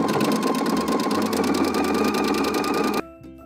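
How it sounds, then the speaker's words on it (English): A sewing machine running a zigzag stitch along the hem of a turtleneck hums with a steady, rapid needle rhythm for about three seconds, then stops abruptly, leaving a few faint clicks. "now I'm going to zigzag my hem down"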